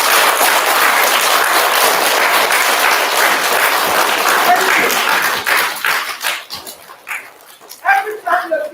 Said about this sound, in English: So, can we give our teachers a big round of applause?